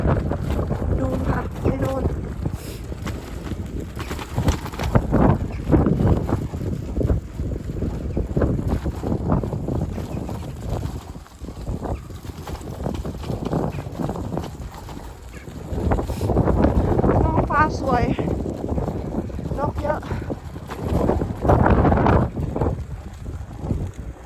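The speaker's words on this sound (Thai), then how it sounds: "ลมแรงมากเลย" Strong wind roars and buffets the microphone while cycling home along the seashore, a loud, continuous rushing that swells and eases in gusts, with faint bird calls and a brief voice underneath.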